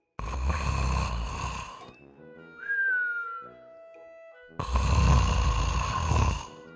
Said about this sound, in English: The sound of snore is